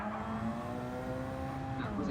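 Group 1 race cars in a rally racing video game go through traffic during a charity race, producing a steady, droning engine whine with sustained tones that dip slightly in pitch near the end.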